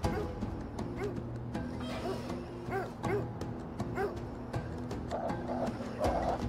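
Several dogs bark and yip in the video game Of Orcs and Men, short overlapping barks and whimpers repeating throughout over a steady low game ambience.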